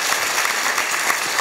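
Sustained applause from a lecture audience of university students in Gwangju, a dense, even wash of many clapping hands at steady loudness with no speech over it.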